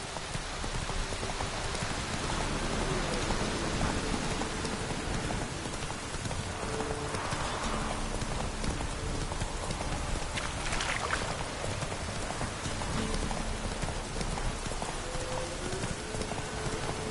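Geralt's horse Roach galloping in The Witcher 3, rapid hoofbeats blended into steady rain and dense ambient noise, continuous and moderately close.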